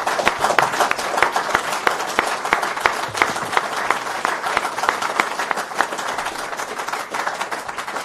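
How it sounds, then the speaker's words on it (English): Audience applause at a Litfest 2024 book talk, a steady dense clapping from a crowd that stays loud and even throughout. "can we give a big round of applause"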